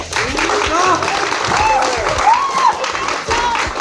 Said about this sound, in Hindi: हम सब एक बार तालियां बजाएंगे